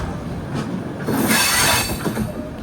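The Mangala Lakshadweep Superfast Express, running from Ernakulam to Hazrat Nizamuddin, pulls into Nashik Road station. Wheels squeal loudly over a heavy rolling rumble and rail clatter, rising and easing, with no talk.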